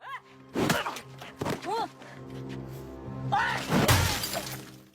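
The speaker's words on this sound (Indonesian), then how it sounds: "memecahkan kaca mobilnya dengan satu pukulan saja" In a film scene from Villagers, a car window is smashed with a single punch: sharp bursts of breaking glass ring out amid shouting and strained, cry-like voices.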